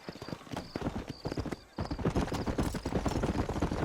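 Horse hooves clip-clopping at a steady trot in Red Dead Redemption, close and rhythmic, with a brief gap partway through and a faint high tone in the background.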